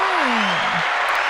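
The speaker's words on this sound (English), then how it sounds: "I'm giving myself hand claps" A man applauds himself, a short steady patter of hand claps with a brief gliding tone at the start and no speech over it.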